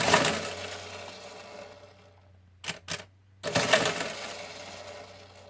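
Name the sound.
Monroe KA electromechanical calculator running a subtraction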